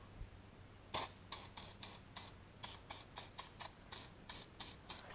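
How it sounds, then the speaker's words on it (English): Rust Bomb penetrating spray hisses onto a rusty car catalytic converter in a long series of short, crisp bursts of aerosol, close and fairly quiet, with no talking. "I'm gonna just spray the entire thing, really get it coated."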